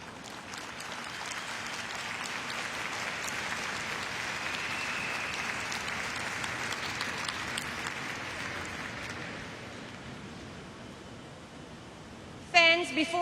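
Tennis crowd applauds the boys' finalists in a long, steady wave of clapping that swells, holds, then slowly fades, ending with a brief sharp burst of voice or noise.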